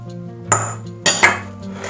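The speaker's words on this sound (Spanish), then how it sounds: "Voy a poner los huevos en un bol más grande, le voy a poner también el azúcar" Eggs and sugar go into a large mixing bowl, heard as a few short clinks and knocks against the bowl, close by, spaced apart over about two seconds.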